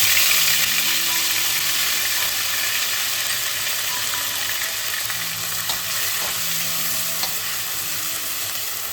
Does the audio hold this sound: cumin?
yes